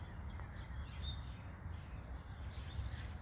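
In a quiet backyard, a small finch gives two short, bright chirps about two seconds apart. They sound faint and somewhat distant over a low outdoor rumble.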